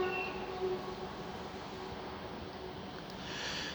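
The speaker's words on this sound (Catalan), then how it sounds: "hem vist, el creuament de l'últim tren de la Tor amb el semitortuga que puja a Puigcerdà" A train passes at Ripoll station, heard as a faint, steady rumble with a brief higher whine, distant and unbroken over several seconds, with no talk.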